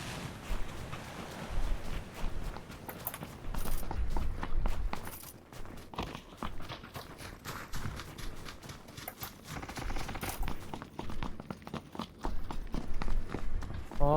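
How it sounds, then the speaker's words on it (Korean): Footsteps of a player in the battle royale game PUBG (Battlegrounds), near a church and stairs, heard as steady rhythmic thuds repeating over dense game noise throughout. "건너편에 발소리"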